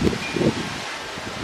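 Gusty wind buffets outdoors, a steady rushing noise with a few louder low puffs, as if blowing across a microphone.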